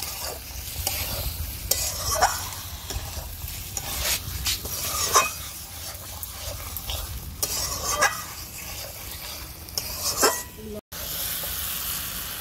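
Eggs being stirred and sautéed in thick masala for a double-yolk egg curry, with steady sizzling and repeated scraping strokes of a spoon against the pan, close and fairly loud throughout.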